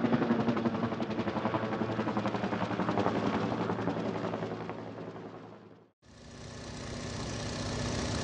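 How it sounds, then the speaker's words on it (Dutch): A helicopter in flight: a loud, continuous thudding rotor chop over a steady engine whine, fading briefly to a dip before surging back strong and close. "Helikopter."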